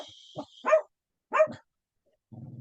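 Dogs barking in short separate bursts, a few sharp barks close by with pauses between, then a low rumbling sound at the end.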